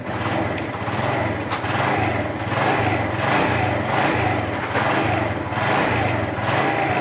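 A Honda CD70 motorcycle engine running with a misfiring problem, a close, steady, buzzing putter that holds a constant, slightly pulsing rhythm with no speech over it.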